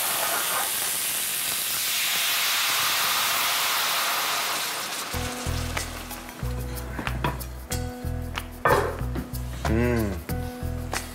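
A hot dish of hare and pork hisses and sizzles loudly as Pedneau apple cider is poured in to deglaze, then utensils clink and scrape against the pan while someone speaks over it.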